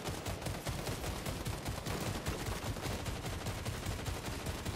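Dense, continuous rapid gunfire fills a shooter video game, with loud overlapping shots rattling without pause throughout.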